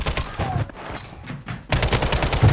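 Loud rapid gunfire in a Call of Duty match: dense bursts of shots, a brief lull in the middle, then a heavy, sustained volley near the end.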